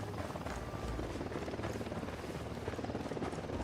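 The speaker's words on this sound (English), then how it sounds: "We got a chopper coming in." Helicopter rotor chop in the Ghost Recon: Wildlands video game, a steady, loud rotor drone with a rhythmic thumping filling the whole stretch as the chopper comes in.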